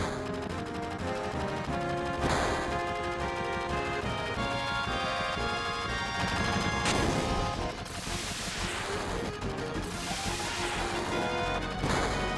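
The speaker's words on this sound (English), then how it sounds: "Gunfire?" Rapid bursts of gunfire and crashing impacts ring out in Final Fantasy VII over a dense, loud background of game music and effects.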